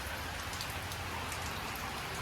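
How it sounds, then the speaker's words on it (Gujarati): Steady rain pattering down, a dense, even hiss of drops hitting surfaces close by, with no voices. "વરસાદ ચાલુ થઈ ગયો છે"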